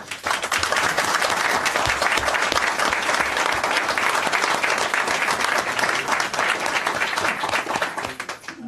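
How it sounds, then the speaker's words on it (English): Sustained applause from the audience at a town council meeting, a dense, even wash of many hands clapping for several seconds with no talking. "Let's give them a round of applause."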